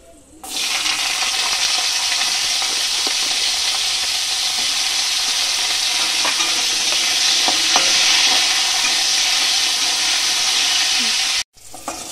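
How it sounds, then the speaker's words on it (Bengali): Loud, steady sizzling of cauliflower frying in hot oil in a pan, a dense hiss running unbroken for about eleven seconds before stopping abruptly, with scattered faint pops. "এই ফুলকপিগুলো ভেজে নেব।"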